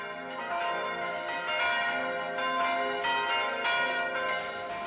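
Church bells ring continuously in Taizé, calling people to prayer, with dense overlapping metallic tones that swell and sustain at steady loudness and no voices.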